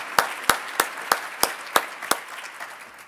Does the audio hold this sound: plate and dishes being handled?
no